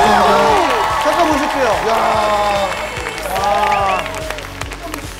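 Audience applause and cheering in a Korean TV studio during a trot music variety show, loud and sustained, with a voice talking over it.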